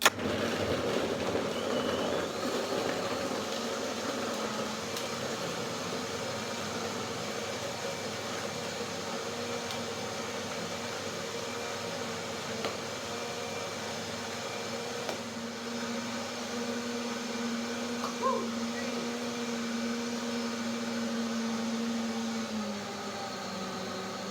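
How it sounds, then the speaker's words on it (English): A blender whirs through hemp seeds and Brazil nuts to make nut milk, with a steady, moderately loud motor drone holding evenly for about twenty-four seconds and no voices. "Blender dance, let's go."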